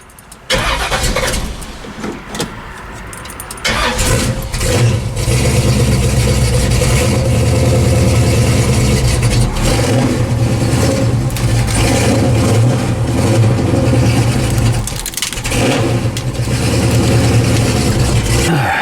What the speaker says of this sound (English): I get this thing warmed up so I can pull it around